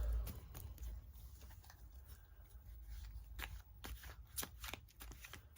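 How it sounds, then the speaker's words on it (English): Tarot cards being shuffled by hand, a close run of brisk papery riffles and soft slaps with sharp crackling flicks in an uneven rhythm, with no voices. "I'll do a quick real shuffle and then pull your card"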